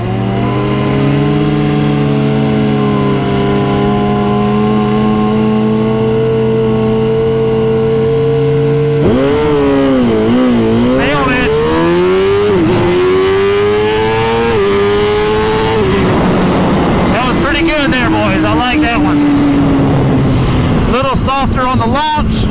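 Two 2021 sportbikes, a GSXR 1000R and a ZX10R, launch hard on a track, engines droning steadily then rising through loud revving gear pulls, with wind rush and another bike nearby.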